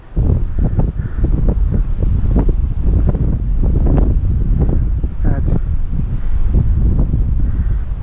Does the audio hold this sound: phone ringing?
no